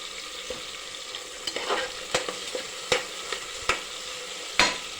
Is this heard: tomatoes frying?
yes